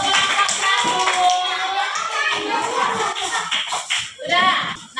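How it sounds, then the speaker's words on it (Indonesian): Schoolchildren in a primary school classroom clap for their group's presentation. The clapping is loud, dense and continuous, layered with children's chatter and a teacher's voice. "kasih dulu tepuk tangannya untuk kelompok satu"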